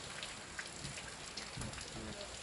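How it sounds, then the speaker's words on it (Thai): Heavy rain pours at a studio while the sun shines, a dense steady hiss of drops drumming on surfaces. Scattered spatters stand out close by, with no talk. "นี่ก็คือบรรยากาศนะตอนนี้ฝนตกนะครับ"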